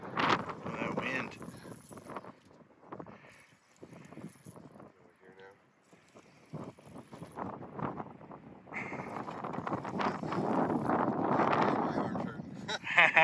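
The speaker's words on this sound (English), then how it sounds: "That wind." Wind gusts buffet the microphone in uneven, roaring bursts on a lake during a backcountry canoe trip in Whiteshell, with people talking in between.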